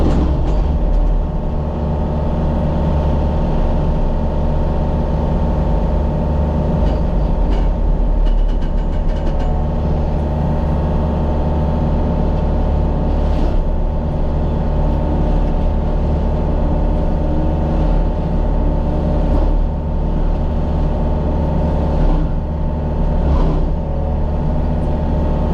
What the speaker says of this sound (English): new Simatech. It's a DHP105 against a, I don't know, a 3 inch tree